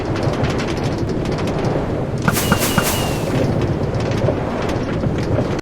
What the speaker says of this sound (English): in those dispensers, we can add fireworks